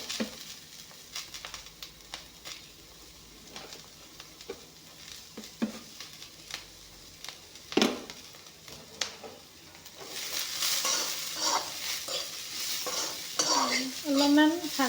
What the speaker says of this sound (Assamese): বিনখিনি এনেকৈ ভাজি ল'লে, বইল কৰি ল'লে বহুত ভাল লাগে খাই